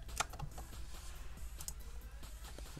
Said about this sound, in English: So you can hit R on the keyboard.